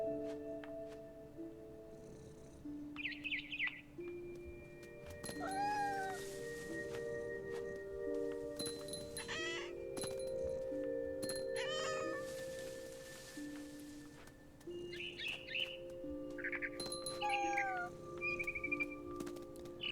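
A cat meows repeatedly in the video game What Remains of Edith Finch, several distinct, close meows spaced across soft sustained musical tones.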